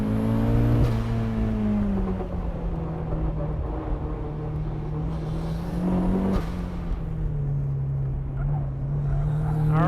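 A turbocharged Mazda Miata engine drones loud and close on a warm-up lap at Lime Rock, holding a steady buzzing pitch that dips and rises with gear changes and throttle.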